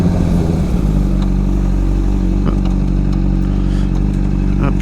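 Honda CBR 600 sport motorcycle being ridden, its engine droning steadily and loud close up throughout, with a low, even hum and slight shifts in pitch.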